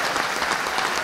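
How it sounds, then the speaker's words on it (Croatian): A large crowd at a gala dinner in Hanioti for a Serbian delegation of 1,200 people applauds a singer with a loud, dense burst of clapping. "Veliki aplauz."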